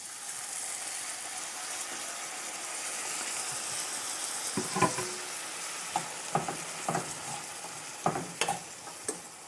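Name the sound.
slurry added to cooking green beans, stirring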